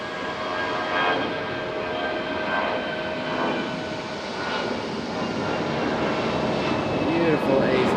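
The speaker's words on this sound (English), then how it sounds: "Beautiful A320 departure from Delta." A Delta Airbus A320 departs RDU airport in Raleigh-Durham, its engine roar a steady, broad rumble that swells gently and holds throughout, with a faint distant talker underneath.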